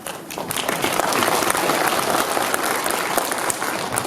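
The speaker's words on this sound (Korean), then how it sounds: "고생준 대표님께 다시 한번 박수 부탁드리겠습니다." An audience at a residents' briefing on a downtown redevelopment project applauds after a presentation, dense sustained clapping from a roomful of people.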